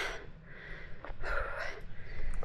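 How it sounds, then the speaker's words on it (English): A hiker breathes heavily while climbing a mountain trail near a lake in the Dolomites, with close, rough, uneven gasps and sniffs at a quiet level and no speech. "Probably hear me panting in the background."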